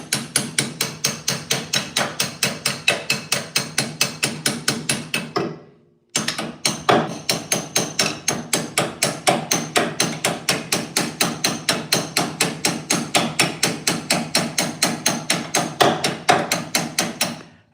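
Rapid, steady hammering on metal during shifter removal and tunnel repair on a 1963 Impala, loud and close, with sharp ringing strikes repeating evenly, one brief pause near the start, then continuing without a break.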